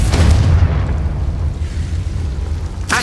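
An explosion from the Confringo spell in the Hogwarts Legacy video game, a loud, deep boom that rumbles and fades over a couple of seconds, followed by a sharp burst at the very end.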